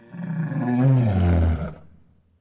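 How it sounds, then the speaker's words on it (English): A bear gives a single deep, rough roar that swells and fades over about a second and a half, close and loud, then tails off into quiet. "Number 2, bear."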